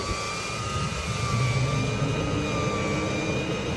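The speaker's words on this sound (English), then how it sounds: "Turn your fan on. And the fan will open, eventually start running here." Exhaust fan in a Coachmen Nova 20RB RV spinning up, giving a steady, loud broadband whoosh with a constant tonal whine running through it for the whole stretch, no voices.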